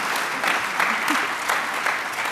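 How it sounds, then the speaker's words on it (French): Audience in a conference hall applauds a speaker, steady mid-level clapping from a seated crowd throughout the short stretch, with no voices over it. "Vous pouvez applaudir Lucie également, si vous le souhaitez."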